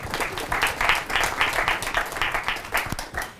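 Applause for a guest lecturer in a Stanford computer networking class, a fairly loud crowd of many hands clapping in uneven swells that taper off toward the end.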